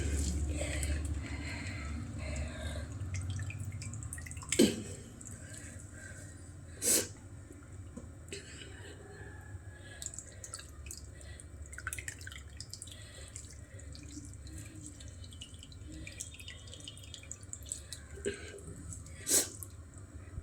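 Quiet, steady trickle of water dripping and running as grated raw tapioca is squeezed by hand, with a few sharp clicks now and then.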